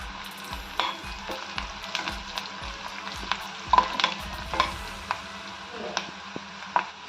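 Onions and curry leaves fry in a pan with a soft continuous sizzle, broken by repeated spatula scrapes and clinks against the metal, close and moderately quiet.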